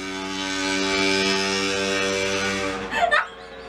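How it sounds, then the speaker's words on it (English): A loud, poorly maintained moped drones past close by with a steady, buzzing engine tone that rises into a harsh whine, then drops off abruptly at the end. "That sound you hear is a moped."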